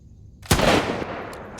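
One sharp gunshot cracks in the zombie first-person shooter Undead City, a loud close blast followed by a decaying rumbling tail.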